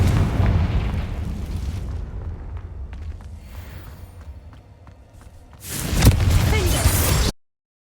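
A Confringo spell explodes in Hogwarts Legacy, a heavy rumbling boom fading over a few seconds, then a second loud burst that cuts off abruptly.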